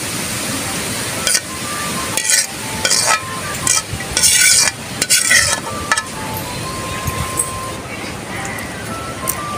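Sisig frying in a pan while being stirred, a continuous close sizzle broken by sharp bursts of spatula scraping and clanks, with a voice talking at moments.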